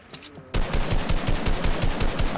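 Rapid bursts of automatic gunfire in a video game, a quiet lead-in followed by a loud, evenly spaced string of shots that continues to the end.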